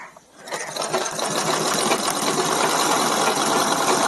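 A zigzag pico sewing machine stitches a saree fall, its motor starting after a brief pause and then running in a fast, steady mechanical chatter close by with no talking.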